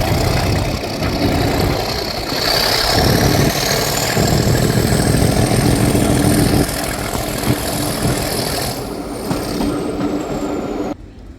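Class 37 diesel locomotive 37688 rumbles steadily at a diesel gala on a heritage railway at night, loud and close. The throbbing engine drone carries throughout, with a rising whine above it, and drops away at the very end.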